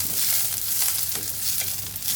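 Small onions and garlic cloves frying in oil in a pan for kollu kulambu, a steady soft sizzle with faint stirring scrapes, close and quiet, no voices.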